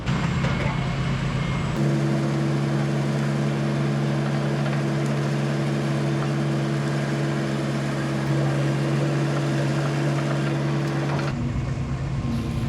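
A chainsaw cutting a dead oak tree, its engine droning at a steady high pitch for several seconds with a louder, rougher start and finish, close and loud, while a voice talks.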